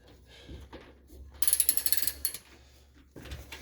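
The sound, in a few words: ratchet with impact socket loosening Honda CRV control arm bushing bolt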